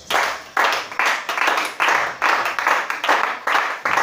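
A church congregation claps in unison to acclaim Jesus, the loud rhythmic bursts of clapping repeating roughly every half second, close and full.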